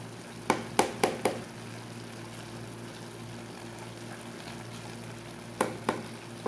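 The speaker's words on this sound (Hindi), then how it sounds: "इसको हल्के हाथों से ही हम इसको चम्मच चलाएंगे चावल नहीं तो टूटेंगे" A spoon gently stirs potato pulao rice in a cooking pan, making a few sharp clinks in two short clusters over a steady low background hum.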